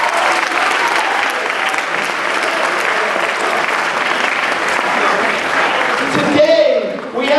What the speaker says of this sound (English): Give yourselves a round of applause if you would.